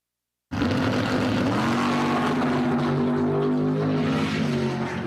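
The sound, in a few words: drag racing car (dragster) engine roaring down the lane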